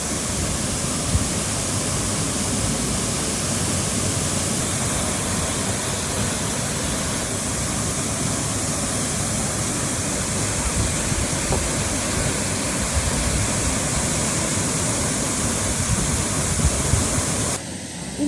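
Thoomanam waterfalls near Wadakkanchery in Thrissur pour down in a constant, loud, close roar. The full-bodied water noise stays unbroken for the whole stretch and cuts off abruptly at the end.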